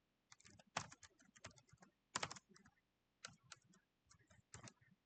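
Fingers tap on a computer keyboard while someone codes in Roblox Studio Lua, making quiet, close clicking in irregular bursts with short pauses between flurries of keystrokes.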